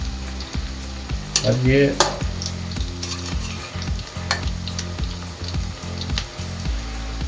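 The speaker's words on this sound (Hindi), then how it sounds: "थोड़ी सी हमने गैस की लौ बढ़ा ली है और एक बार इन पकौड़ों को पलट दिया है कढ़ाई के अंदर" Pakoras crackle and sizzle steadily in hot oil in a kadhai over a raised gas flame, with a few brief clatters as they are flipped early on. A short spoken phrase comes in near the start.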